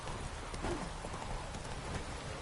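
Roach the horse galloping in The Witcher 3 Wild Hunt, rapid rhythmic hoofbeats thudding continuously over a constant wash of ambient noise.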